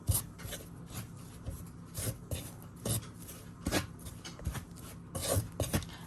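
Masala being mixed by hand into roasted wheat flour in a bowl, a series of soft scraping, rubbing strokes at an uneven rhythm, close and quiet with no voices.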